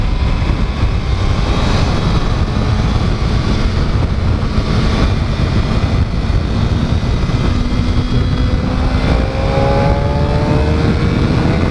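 A 2015 Suzuki GSX-R 600 sport bike at full throttle, its engine roaring loud and continuous with rising pitch sweeps as it pulls through the gears, heard close over heavy wind rush.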